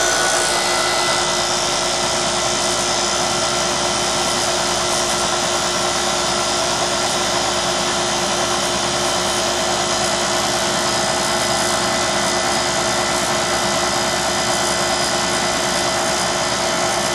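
A York heat pump compressor runs steadily during refrigerant charging, a loud, continuous mechanical hum and whine with a constant pitch throughout, alone with no voices.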